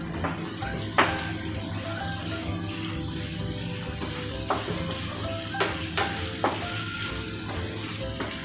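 Chicken frying in butter and garlic in a pan, a steady close sizzle with occasional sharp stirring scrapes and clinks, no talk.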